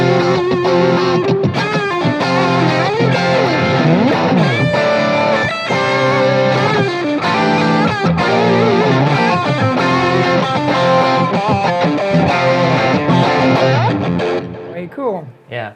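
Electric guitar played through effects with a switchable single-coil-to-humbucker sound, a vintage tone and heavy reverb, producing dense sustained distorted chords and melodic lines continuously for about fifteen seconds before cutting off.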